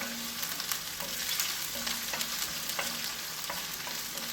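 A small chopped onion fries in a pan with a steady, dense sizzle. Soft, regular taps of a stirring utensil sound throughout.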